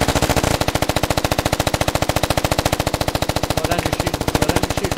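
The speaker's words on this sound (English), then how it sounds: "Slow down your shooting." Machine gun fire in the Squad Ops video game, a loud, sustained rapid burst of evenly spaced shots hammering close by for the whole stretch.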